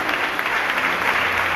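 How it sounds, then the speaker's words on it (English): Church congregation clapping in worship: a short, dense burst of many hands close and steady, with nobody speaking over it. "Oh, can you clap for Jesus over here?"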